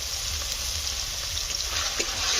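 Spices sautéing in a pan for a prawn curry, with onion, green chilli, ginger paste, tomato paste, turmeric and Kashmiri chilli powder: a continuous close sizzle and crackle throughout, with no talk.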